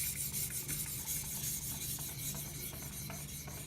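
A knife blade is worked on a guided sharpener to remove old polishing marks and raise a burr, giving a steady, faint rasping rub with repeated strokes and no talk.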